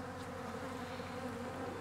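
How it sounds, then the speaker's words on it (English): Bees fly around their hives bringing in plum pollen, making a steady, close, low buzzing hum that holds evenly through the short moment with no talk. "the bees were really taking advantage of the light winds, and the pollen was pouring in the hives today"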